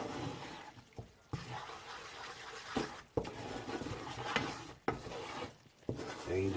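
A flour and oil roux for chicken, shrimp and sausage gumbo being stirred, with a steady scraping rub of a spoon against the pot broken by brief pauses, close and moderately quiet.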